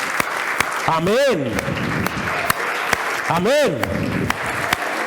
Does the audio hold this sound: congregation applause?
yes